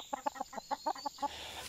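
Farmyard hens clucking close by: a quick run of about eight short, sharp clucks in an uneven rhythm, then a quieter pause. No one speaks.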